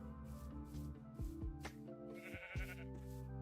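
A sheep in the Minecraft Better Than Wolves mod gives a couple of short bleats over steady, droning game music.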